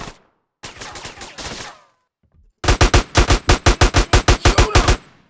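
Automatic gunfire from GTA San Andreas Definitive Edition: a short burst, a pause, then a longer loud run of about a dozen evenly spaced sharp shots, with no talking.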